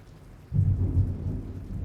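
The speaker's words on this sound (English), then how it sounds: "more thunder and lightning" A thunderstorm rolls in with a deep, loud rumble of thunder over steady rain falling on surfaces, with no voices.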